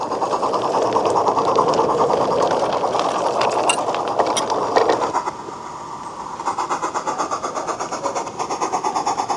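A miniature railway steam locomotive works hard up a steep 1 in 40 gradient with a valve timing fault, its exhaust beating in a rapid uneven chuff that stays loud and close, then drops back briefly before resuming.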